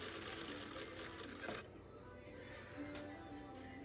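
A Juki LZ-2280B industrial sewing machine runs briefly and steadily with a faint mechanical whir under a soft voice, the motor fading after about a second and a half.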